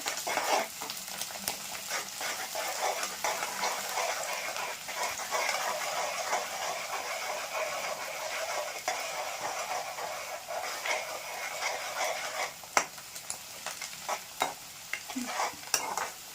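Onions fry in a pan with curry leaves and coriander, making a steady close sizzle with occasional stirring scrapes and clicks, continuous and fairly loud throughout, with no talking.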